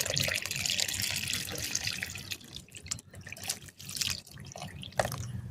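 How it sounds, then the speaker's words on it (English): Water poured into a potted, freshly transplanted Amla (Indian gooseberry) plant, a soft steady trickle and splash with drips, close by and quiet. "So the last step is to add some water."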